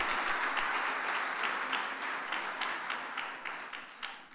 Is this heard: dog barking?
no